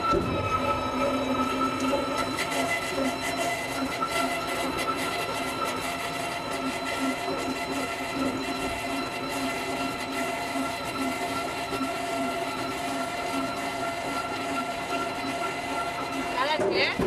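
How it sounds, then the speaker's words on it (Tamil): A pedal rail bike rolls along a railway track at Gapyeong Rail Park in Korea, with a continuous rumbling clatter of steel wheels on rails and occasional high squeals, while people talk over it. "இதுதான் ரயில் பைக்."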